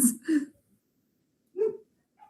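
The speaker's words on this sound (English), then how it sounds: "my dogs are barking" Dogs bark in short bursts, two quick barks close together and then another after a pause, fairly faint and with nothing else around them.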